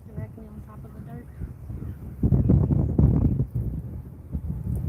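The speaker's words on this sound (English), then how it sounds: "it's super windy right now" Blustery wind buffets the microphone in low rumbling gusts, strongest in the middle, while a voice talks at the start.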